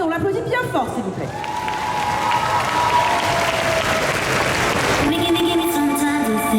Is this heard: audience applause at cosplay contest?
yes